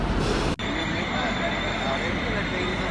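Steady rumbling roar of a German ICE InterCity Express train in motion, continuous and fairly loud, with one brief dropout near the start and no clear talk.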